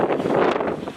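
Strong gusting wind buffets the microphone during a hillside descent, a continuous loud roaring rumble with fluctuating intensity and no voices.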